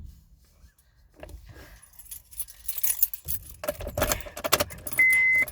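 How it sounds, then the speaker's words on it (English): Car keys jangle in several bursts as the car is started, metallic and close; a faint engine and thumps sound in the background. "Let me turn the car."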